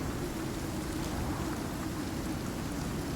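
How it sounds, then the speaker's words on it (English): Steady rain falling in the survival game Icarus, a constant even hiss of drops pattering on rock with no pauses, moderately quiet and unbroken. "we're getting rained on in here"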